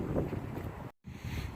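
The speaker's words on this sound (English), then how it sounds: "The wind's kicking in right now." Wind buffets an outdoor microphone with steady, loud rumbling roar, briefly dropping out for a moment before resuming.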